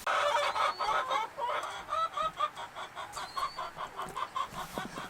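Chickens clucking in a coop spread with hay, a close, steady run of repeated clucks and soft squawks at moderate volume.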